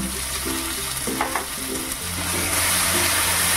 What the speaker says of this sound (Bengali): দিয়ে মশলাগুলোকে একটু ফ্রাই করে নেবো, ভেজে নেবো।